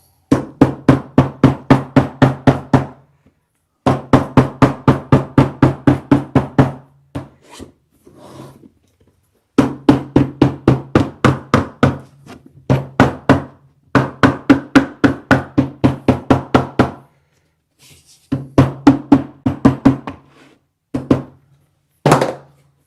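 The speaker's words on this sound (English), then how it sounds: "Now we'll just take a hammer to it and flatten it out." Hammer blows flattening leather for a handmade bag in a leather studio, struck in fast rhythmic bursts of many sharp, close thuds, pausing between runs and ending with a few scattered single knocks.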